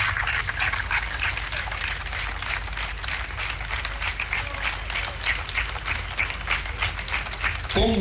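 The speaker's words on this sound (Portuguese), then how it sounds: "uma salva de palmas muito especial a todos aqueles que contribuíram para esta grande vitória" Dense, steady applause from a crowd of supporters celebrating a local election victory, a continuous wash of many hands clapping without a break.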